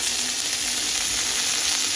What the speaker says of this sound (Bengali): তো কড়াই প্রথমে তেল শুকনো লঙ্কা দিয়ে আমি টক ঢ্যাঁড়সগুলো দিয়ে দিয়েছি।